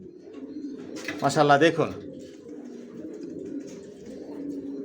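Racer pigeons, young birds for sale, give a soft, close cooing call with a rising burst in the middle over a low background murmur, while someone speaks.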